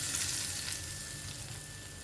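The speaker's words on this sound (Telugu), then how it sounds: "ఇప్పుడు తాలింపు మొత్తం వేసేస్తున్నాను." Tempering for curry leaf chutney sizzling in a pan, a soft steady crackle and fry hiss, faint and close, with no talk.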